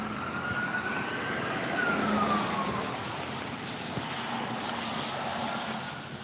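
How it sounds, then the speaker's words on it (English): A faint siren wails in the distance, its pitch slowly rising and falling over steady city hum; no one speaks. "I hear sirens."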